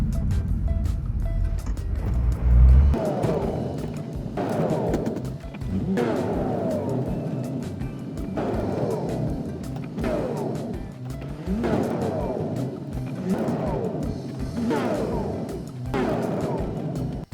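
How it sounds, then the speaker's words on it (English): An E46 BMW M3 with a big brake kit repeatedly speeds up and brakes hard from 60 to 10 mph, several engine surges each followed by a quick slowdown, with a faint tire squeal. "doing a series of quick stops from 60 to 10 miles per hour in quick succession"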